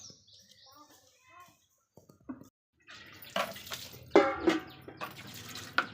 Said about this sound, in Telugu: వాటర్ మంచి రాట్లేవుగా కొద్దిసేపు అట్నే వస్తాయి